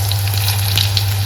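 Cumin seeds sizzling in hot oil, a steady close frying hiss over a constant low hum, with no voices.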